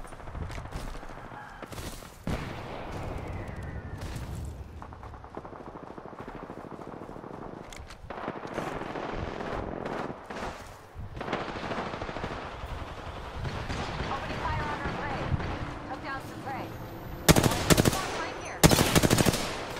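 Apex Legends gunfire in a firefight: scattered bursts of automatic shots and single cracks of varying loudness over constant game ambience, ending in the heaviest, closest volleys.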